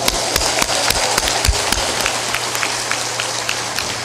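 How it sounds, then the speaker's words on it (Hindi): An audience at a spiritual discourse claps loudly, with sharp, close hand claps falling in a fairly steady rhythm over a continuous background hum. "ताली बजा दो जोरदार"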